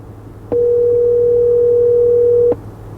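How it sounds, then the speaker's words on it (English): A single steady electronic tone about two seconds long plays through the factory-converted CarPlay system of a 2020 Lexus LX570 as a call is placed, starting and stopping abruptly over quiet cabin hum. "Let's have Siri make a quick phone call."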